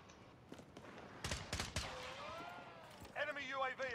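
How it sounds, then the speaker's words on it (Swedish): Gunfire in a video game: a cluster of sharp, loud shots bursts out near the middle, amid fainter scattered pops and some muffled voice chatter. "det susar skott här"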